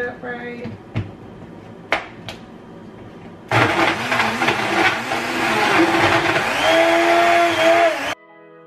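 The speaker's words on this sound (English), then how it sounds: "I'm just gonna make sure that my blender is set up right." A kitchen blender gets a few clicks and knocks as it is set up, then roars on at full speed for several seconds with a loud whirring whine that shifts pitch before cutting off abruptly.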